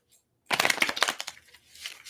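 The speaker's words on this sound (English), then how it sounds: "Let me shuffle this one more time." A tarot card deck being shuffled by hand: a dense, crackling riffle of overlapping card flicks that starts abruptly, stays close and loud, then thins into softer scattered rustles.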